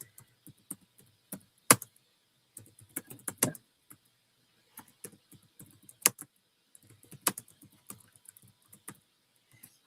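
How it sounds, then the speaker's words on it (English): Keys on a computer keyboard sitting on a hollow, unsolid box clack in irregular bursts, several loud sharp strikes among softer taps, close up with no talking. "when I type, I can hear the keys pound, pound, pound"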